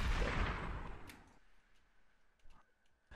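Kill Shot ability gunfire in a video game, one loud opening blast that decays into a fading rumble, followed by a couple of faint ticking clicks.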